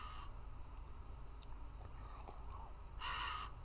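A crow caws a couple of times in a video game over a steady low ambient rumble, with a brief harsher burst near the end.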